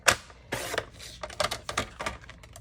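A paper trimmer cuts a sheet of paper down to size on a crafting desk. A few close, sharp sliding swipes and clicks come in irregular bursts, with no talking.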